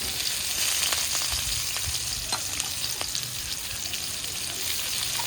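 Chopped onion frying in hot oil with bay leaves, dry chilli and cumin, a steady close hiss of sizzling with occasional light crackles and pops throughout.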